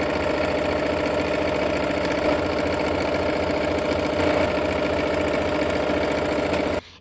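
Sewing machine stitching bias-cut fabric edges, a steady close mechanical hum running for about seven seconds before stopping abruptly.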